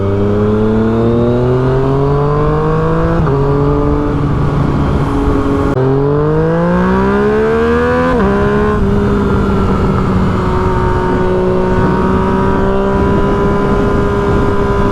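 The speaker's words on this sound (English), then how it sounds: "I have not heard a pop that loud from the FZ-09 before. We got some nice backfires going." A Yamaha FZ-09 motorcycle engine revs loud and close, its pitch climbing and falling through several throttle blips over about fifteen seconds, with sharp exhaust pops and backfires breaking in between the revs.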